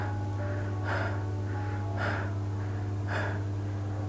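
A voice imitates panting, with three or four audible breathy gasps coming at a steady rhythm over a constant low electrical hum.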